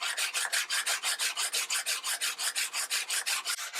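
A coarse bastard-cut or mill-cut hand file rasps across a piece of padauk wood in steady, rhythmic back-and-forth strokes, close and clear, with about twenty even passes and no talking.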